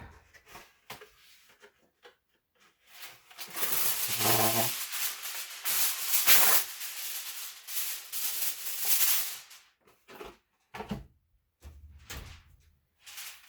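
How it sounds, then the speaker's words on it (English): Aluminum foil crinkles and rustles loudly over a baking pan in several bursts, the longest lasting a few seconds, followed by shorter scrapes and soft handling noises close by, with no voices. "I'm going to cover the pan with aluminum foil"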